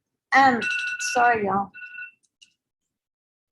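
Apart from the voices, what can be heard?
phone alarm ringing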